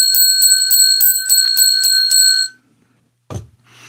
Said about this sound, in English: And now I got to ring the bell quickly.